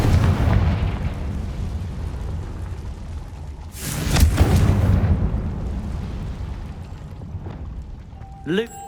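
A Confringo fire spell bursts in the Hogwarts Legacy video game, a booming blast near the middle over a rumbling low ambient bed, followed by a quick rising magical whoosh at the end.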